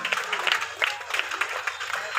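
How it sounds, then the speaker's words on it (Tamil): Applause from an audience at a school prize-giving ceremony for a student, a steady patter of many hands clapping with uneven bursts, moderately close and continuous. "ஜோரா கைத்தட்டி ஊக்குவீங்க"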